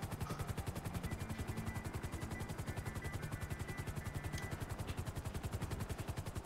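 A helicopter in the video game Grand Theft Auto V thumps with fast, even rotor chops that run unbroken and close throughout, loud and steady with no talk over it.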